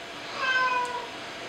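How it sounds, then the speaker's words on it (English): A house cat meows once, a single drawn-out close call rising and falling over a quiet room background. "And my cat wants attention apparently."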